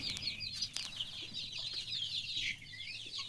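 Native country hens cluck softly and continuously while drinking turmeric water, a rising and falling run of bird calls at moderate distance over low background noise.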